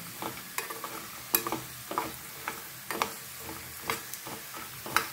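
Chickpeas crackle and pop in hot oil as they deep-fry for crispy chilli chana. Sharp spattering bursts come up close at an uneven rhythm over a quieter sizzle, with no talking.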